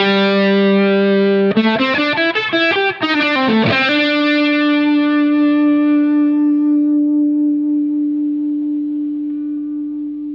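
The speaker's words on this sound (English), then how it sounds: "get your ear tuned into the sound of this subtle vibrato" Electric guitar notes bent and shaken with a gentle, subtle vibrato through effects, then one note sustains and slowly decays for several seconds.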